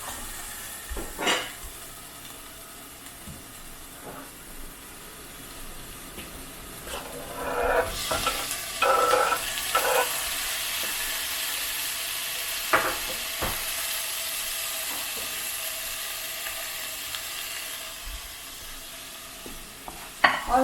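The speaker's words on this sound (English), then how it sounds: "Fry it for a minute and then I'll add the tomatoes." Zucchini fries in a pan for a zucchini sabzi, starting as a faint sizzle and swelling into a louder, steady hiss partway through, with occasional sharp utensil taps against the pan.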